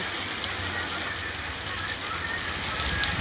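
Heavy rain pours down outdoors in a steady, dense hiss at an even level throughout the short stretch, with no voices heard.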